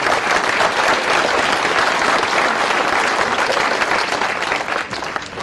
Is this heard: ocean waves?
no